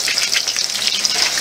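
Cornflake-coated chicken sizzles and crackles loudly in hot oil in a frying pan, a continuous close-up frying hiss with quick pops throughout.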